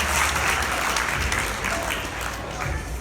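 Applause from a crowd at a school sports banquet honouring a girls volleyball team, sustained and fairly loud clapping that fills the room evenly, with faint voices mixed in.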